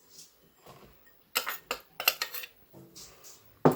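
Flour and powdered sugar being sifted through a sieve, heard as a few sharp, close metallic taps and rattling bursts of the sieve amid quiet pauses, with no talking.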